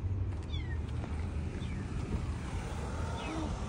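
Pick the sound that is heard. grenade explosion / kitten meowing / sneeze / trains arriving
kitten meowing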